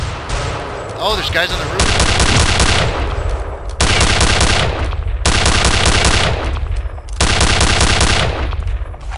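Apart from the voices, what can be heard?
gunfire from video game Return to Castle Wolfenstein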